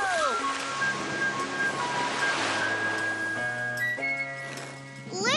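A cartoon waterfall rushes with a steady, loud broadband roar that runs through the whole clip, heard alongside bright musical tones and sound effects.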